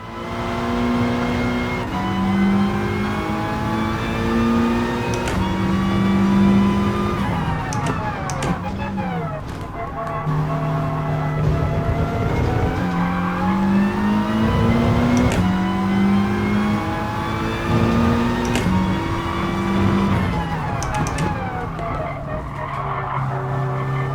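A race car in Gran Turismo Sport revs and accelerates hard, its engine harmonics climbing and dropping through repeated gear shifts, with tires skidding through corners, loud and continuous throughout.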